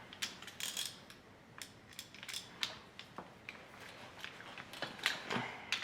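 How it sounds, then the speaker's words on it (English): Ratchet clicking on the bracket of a pit bike, a series of short metallic clicks in irregular bursts, close and fairly faint, with no talking. "Get your ratchet."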